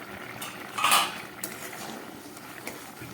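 A lid lifted off a pot of vegetarian mixed-vegetable cooking, with a short bright metallic clank and a few light utensil clinks over a soft background hiss.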